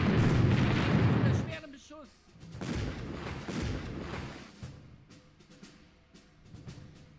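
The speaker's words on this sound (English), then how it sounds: "Here comes the naval bombardment." Naval bombardment explosions from the strategy game Battle Academy: a loud, heavy blast rumbles for about a second, followed after a brief lull by further rolling booms that gradually fade.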